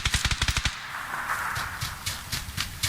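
Gunfire in the video game PUBG Lite, Miramar map, with M416 and Kar98 rifles: a rapid automatic burst of about eight crisp shots, then a noisy stretch and a few scattered, more distant shots.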